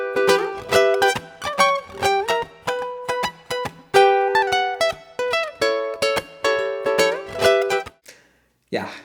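Ukulele picking a theme tune's horn-section line higher up the neck, bright plucked notes in quick rhythmic bursts and chords, close and clear, stopping abruptly near the end with a brief strum after a pause.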